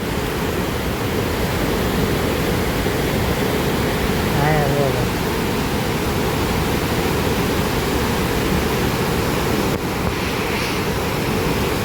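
Water rushing out through the gates of the overflowing Shetrunji Dam near Palitana, a loud, continuous broadband roar filling the whole stretch, with a brief faint voice partway through.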